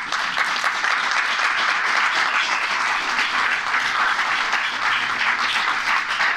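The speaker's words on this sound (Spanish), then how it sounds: "un aplauso para él" An audience at a children's rights and shared custody conference in Alcobendas applauds steadily, a dense, even wash of clapping that holds at the same level throughout without a break.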